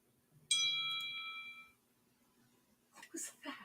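A text message notification rings out as a bright, sudden chime with a ringing tone that fades over about a second, followed by a person speaking.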